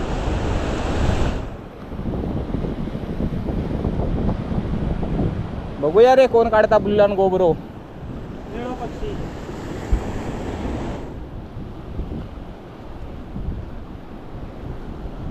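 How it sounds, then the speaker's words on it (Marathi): Sea waves roll and break steadily on a beach at dusk during the early monsoon, under strong wind noise. Someone talks over them in the middle of the clip. "मध्ये मध्ये ना मोठी मोठी लाटा येतात"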